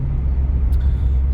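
A BMW E36 car drives along on a nice spring day, giving a steady low engine and road rumble that stays constant and close throughout the short stretch, with no voices.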